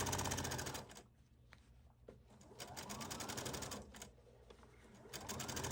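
Sewing machine understitching a shirt facing close to the seam, running in a rapid rhythmic stitching chatter that slows and pauses briefly before speeding up again, fairly close and clear.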